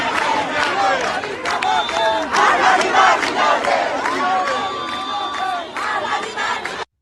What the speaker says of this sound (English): Kerman, people are chanting Pahlavi barmigerde. They're chanting that this is the final battle.